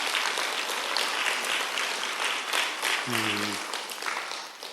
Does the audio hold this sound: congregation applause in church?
yes